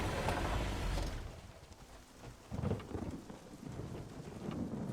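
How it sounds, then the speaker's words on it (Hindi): Heavy rain pours outside a moving car, with low rumbles like distant thunder and a steady wash of rainfall that dips briefly before swelling again, no voices heard. "जरा एक बार बाहर देखो, बारिश 1 मिनट के लिए भी नहीं रुकी है"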